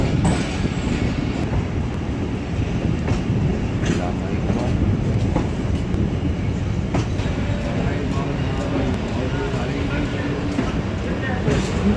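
Shah Hussain Express standing at Khanewal railway station, a constant loud rumble of engine and platform noise with scattered clanks, voices murmuring underneath throughout.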